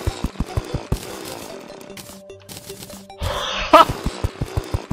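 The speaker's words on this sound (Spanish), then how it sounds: "¿Por qué suena como una motosierra?" A Terraria axe with a chainsaw-like sound, heard as a rapid run of loud mechanical revving chops with a brief harsh burst near the end, alone and close.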